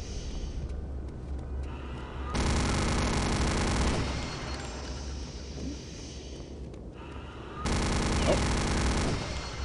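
Machine gun fire in the shooter Return to Castle Wolfenstein, loud sustained bursts that start and stop twice, with quieter gunfire and action noise between them.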